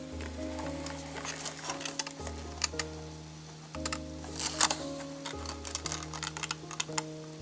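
A tape dispenser pulls and tears tape along the edge of a card box, making close crackly ticks and short rasps over a steady low background hum, with no speech.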